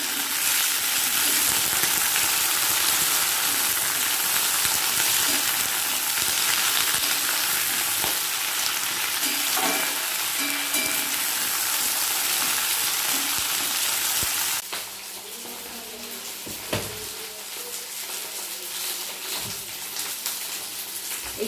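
Flat beans (sim) fry in oil for sim chorchori, a Bengali dish, with a loud, dense, continuous sizzle. Around the fifteenth second it drops sharply to a quieter crackle with a few clinks.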